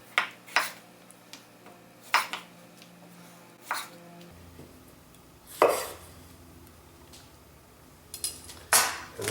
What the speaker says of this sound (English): Got some Roma tomatoes, so we'll just cut those in half.